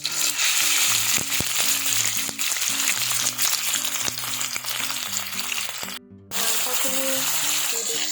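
Broiler chicken meat sizzles steadily as it fries in a pan with whole spices. The crackle runs continuously under background music, dipping briefly near the end before resuming.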